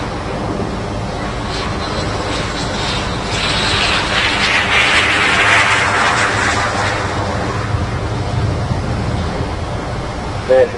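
A Red Arrows jet streaks past at the Farnborough International Airshow 2014, a loud broadband engine roar that swells toward the middle and fades away, with a commentator's voice underneath.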